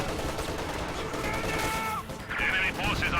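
Heavy mortars pounding a target in a strategy video game: sharp, crackling blasts in quick succession, mixed with rattling gunfire, heard under a voice talking.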